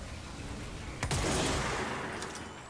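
Gunfire from a video game, a sudden loud burst around the middle that decays into a noisy wash over steady background game sound, with no talking.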